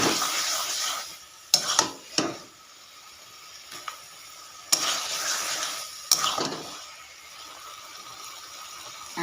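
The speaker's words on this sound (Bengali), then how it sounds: "পাঁচ থেকে ছ মিনিট মতো এটাকে নেড়ে নেব" A pan of taro greens with prawns and a little sugar is stirred with a soft frying hiss. Scattered scrapes and knocks come in uneven bursts, close and moderate, with no talking.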